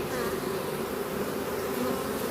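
Steady, dense buzzing of many honey bees close by around a hive in Jamaica, a continuous droning hum with no pauses and no voices.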